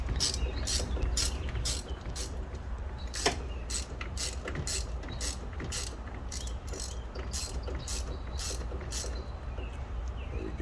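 A ratchet tightening a spark plug on a Dodge Durango with a HEMI engine, giving a steady string of close, sharp clicks over a constant low background hum, no talking.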